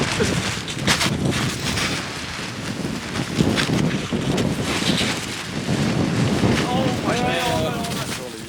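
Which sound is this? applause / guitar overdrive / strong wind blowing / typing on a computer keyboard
strong wind blowing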